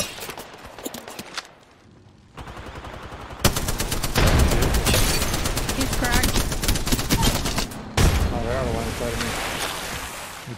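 Gibraltar's ultimate airstrike in Apex Legends rains down as a dense barrage of rapid booms and rattling blasts, loud and sustained after a quieter opening, with scattered gunfire mixed in.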